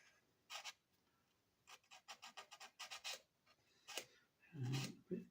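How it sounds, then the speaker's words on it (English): Careful hand sanding on a plastic part of a Revell 1:400 Queen Mary 2 model ship, short quiet rasping strokes in irregular bursts with pauses between, close up and alone. "So a bit careful sanding."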